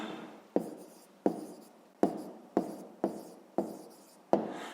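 Pen or pencil writing out a handwritten answer to a fifth-grade math exercise, a series of about seven sharp strokes or taps at a steady pace, each followed by a short scratching trail, close and alone.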